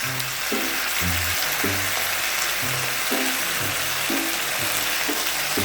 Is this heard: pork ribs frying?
yes